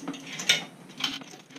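A Rabaconda manual tire changer works a tire onto a wheel fitted with a tire pressure sensor, giving faint mechanical clicks and two short ratcheting bursts close by.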